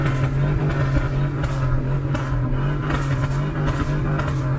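A 2001 Chevrolet Suburban V8 with a misfire idles and revs close up, a loud, steady engine drone with an uneven, stumbling pulse and no talking.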